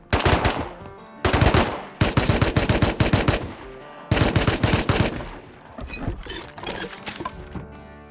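Gunfire in the Rust video game during a night ambush, loud close bursts of rapid automatic shots in several volleys with short gaps, trailing into scattered quieter shots.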